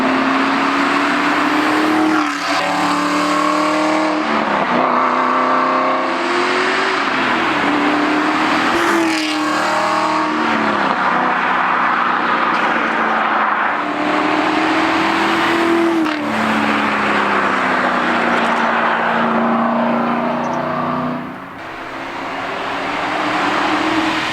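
Aston Martin V8 Vantage engine recorded from the roadside, a loud continuous burble with repeated rising revs and gear changes, alone with no talking, easing slightly near the end.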